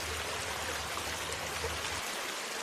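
A waterfall at the Putri Ngliirip site sends out a steady broadband rush of falling water, continuous and fairly even with a low rumble underneath.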